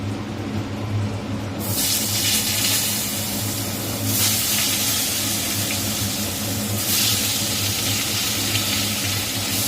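Potatoes fry in hot oil seasoned with bay leaf for a fish-head curry, giving a loud, close, continuous sizzling hiss that surges in three distinct bursts as the pieces go in and settle.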